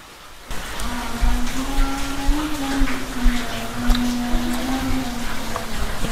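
Steady rain hisses throughout, a dense continuous patter with a faint tonal hum underneath and occasional louder drops.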